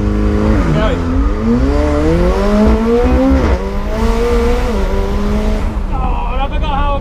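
A McLaren 720S sports car launches hard from a race start line, its engine revving loud and close through rising gear sweeps with brief shifts, with a voice speaking over it.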